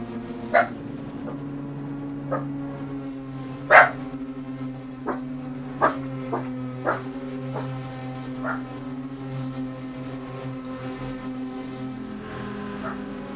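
Dogs bark in scattered single yaps and short bursts, moderately close, over a steady low hum, with quieter pauses between the barks.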